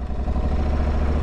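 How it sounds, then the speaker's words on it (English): A 2023 Aprilia Tuareg 660 motorcycle engine catches and settles into a steady, close, low throbbing rumble, running alone with no talk for just over a second. "You've got a combined engine stop and engine start, so it's just a dab of that."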